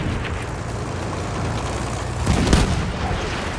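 Explosions rumble through a Battlefield 1 battle with tanks, a low steady roar under a heavy boom that lands near the end, and no talking over it.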